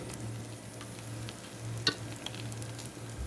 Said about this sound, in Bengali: দেখেন আমার চালটা ভাজা হয়ে গেছে। আওয়াজটা তো শুনতে পাচ্ছেন কিনা জানি না, চুরচুর করে একটা আওয়াজ হচ্ছে।